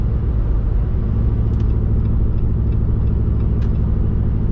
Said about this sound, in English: Now if I jump on it, valves opened up.